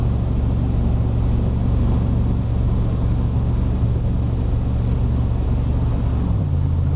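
A wood gasifier-powered vehicle's engine runs steadily at about three-quarter throttle, a loud continuous low rumble and drone heard from inside, with a slight drop in pitch near the end.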